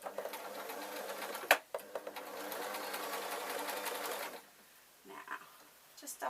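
A sewing machine stitches a lined waistcoat with a fast, steady whirring buzz for several seconds, then stops; a voice speaks briefly afterward.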